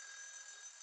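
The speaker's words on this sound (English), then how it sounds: "That's an alarm that I set up for myself." A personal electronic alarm sounding as a steady, thin high-pitched tone, faint and continuous for about a second with no voices.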